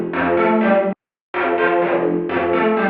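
Thin, distorted reverb-soaked bass notes from Serum, EQed like a telephone with much of the low end cut, two sustained bursts separated by a short silence.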